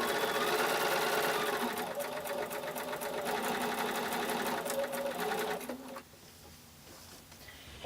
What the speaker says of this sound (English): Just pivot your fabric as you're sewing to make it go around that curve.